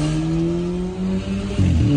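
Remapped Volkswagen TSI car with a DSG7 gearbox, engine revving hard and close, a strong droning tone rising in pitch and then dropping sharply as the revs shift near the end.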